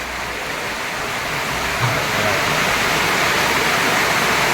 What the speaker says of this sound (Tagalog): bumuso naman yung malakas na ulan mga kabukal